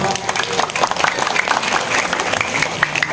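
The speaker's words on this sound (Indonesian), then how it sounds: "tepuk tangannya mana para pemuda" Audience clapping at a Sundanese-language Islamic sermon, a dense steady patter of many hands filling the whole moment, with some voices mixed in.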